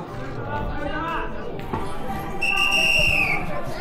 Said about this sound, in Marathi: शिट्टी वाजवली.